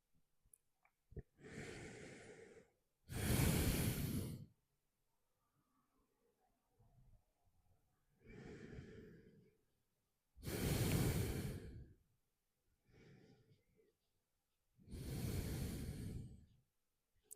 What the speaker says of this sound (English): Two more breaths here.